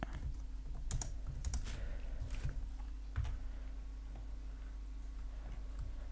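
Computer keyboard typing while Python code for a chess game is written with Pygame, a steady run of close clicky keystrokes in uneven bursts over a constant low hum, with no talking.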